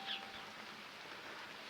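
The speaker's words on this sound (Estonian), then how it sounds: "Praegu on halb ilm, näed isegi, vihma sajab" Steady rain falls outdoors in bad weather, a soft continuous hiss of drops on surfaces that stays even and fairly faint from start to finish, with no talking.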